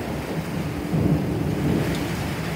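Thunder rumbles low and heavy through steady rain during an extreme thunderstorm, the downpour hissing continuously while the rolling thunder swells midway.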